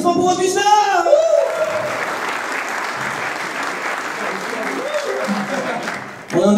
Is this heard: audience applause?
yes